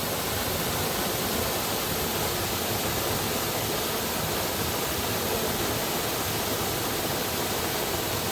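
Water pours steadily over Gusong Falls on a stream running down from Obongsan toward Soyang Lake, a dense, unbroken roar close by with no voices.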